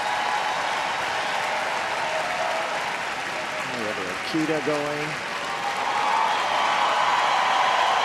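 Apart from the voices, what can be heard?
audience applause for the Doberman at dog show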